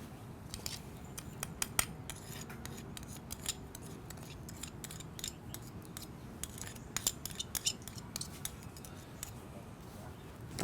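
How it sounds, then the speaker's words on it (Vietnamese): A spoon stirs fish sauce, vinegar and sugar into a dipping sauce in a bowl, making a quick, steady run of light ticking and scraping clinks, close up and faint. "Các bạn trộn đều này."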